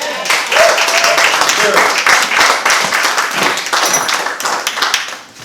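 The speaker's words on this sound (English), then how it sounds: "let's give her a round of applause." Hearty audience applause, dense clapping from many hands filling the whole stretch, loud and close.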